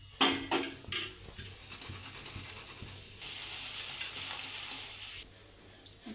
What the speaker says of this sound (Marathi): आता शेंगदाणे घ्यायचे आहेत तळून